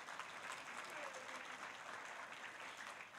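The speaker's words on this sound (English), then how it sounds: "And give her a round of applause." Audience applause at a 2015 Invent Idaho awards ceremony, a steady wash of clapping from a crowd that holds at an even level throughout, fairly distant and soft with no voices over it.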